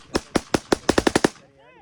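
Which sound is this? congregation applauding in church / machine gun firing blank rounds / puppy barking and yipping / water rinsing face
machine gun firing blank rounds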